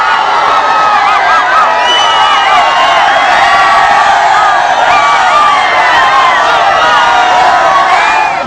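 A large crowd of fans cheers, whoops and whistles for film stars of the Kannada movie Hudugaru, loud, dense and continuous, with shrill whistles rising over the roar throughout.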